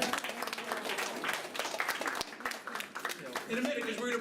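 Applause from the audience at a hypnotist's stage show at a college in White Plains: steady broadband clapping over about four seconds, fairly far off, with voices murmuring underneath.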